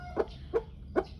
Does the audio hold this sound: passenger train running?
no